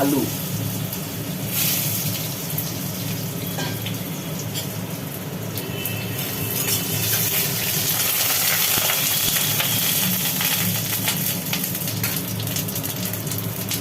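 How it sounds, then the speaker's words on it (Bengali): Cut potatoes frying in hot oil for a home-cooked egg curry give a steady, loud, hissing sizzle that swells and crackles more densely partway through, with faint stirring scrapes. "তেলটা গরম হয়ে গেল তেলের মধ্যে দিয়ে দেওয়া হলো"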